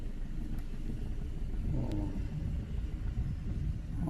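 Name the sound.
car pulling off in second gear during driving lesson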